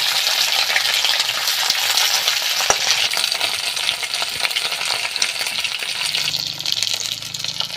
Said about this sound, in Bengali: শিমটা আমি ভালো করে ভেজে নেব।